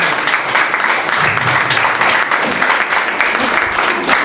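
A hall audience applauds at the premiere of a social-awareness telefilm, a dense, steady wash of clapping that holds loud and continuous from start to finish.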